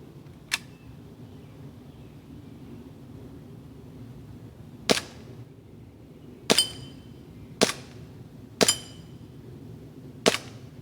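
Six sharp airsoft pistol shots from a WE Ultra Carry Pro fired through a tree outdoors, each a crisp snapping crack with a brief ring, spaced irregularly over a quiet, low background hum.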